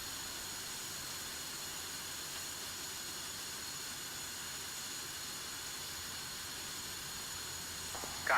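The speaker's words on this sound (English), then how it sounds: "let's see how it will change when the right engine is started" Right jet engine of an F-5E Tiger II spooling up in the DCS World flight simulator, heard as a steady, loud broadband roar and hiss that holds level throughout, with a brief rise at the very end.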